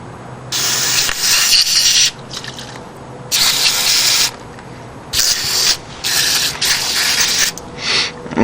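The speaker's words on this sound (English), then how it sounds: "when you're spraying through these, look at the other side and make sure it's coming out" Carb cleaner sprayed through the ports of a Suzuki TS185 carburetor comes as several loud, close hissing bursts of uneven length, separated by short quieter gaps.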